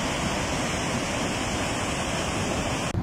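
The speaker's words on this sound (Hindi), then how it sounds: "कोहलू में मूसलाधार बारिश से मावंद के मुख्तलिफ नदी नालों में तुग़यानी आ गई।" Swollen streams rushing after torrential monsoon rain in Kohlu, a dense, unbroken roar of turbulent water that stays loud and close before cutting off sharply at the very end.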